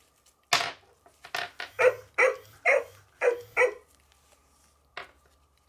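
A Hasbro Joy for All robot companion dog barks in a run of about eight sharp, close, evenly spaced electronic woofs, followed by a pause and one more short bark, with no talking over it.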